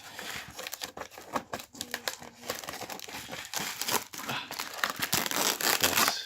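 Close, busy crinkling and snipping as scissors cut open the plastic packaging of Japanese yakisoba noodles, with irregular crackles and short cutting sounds coming in quick bursts.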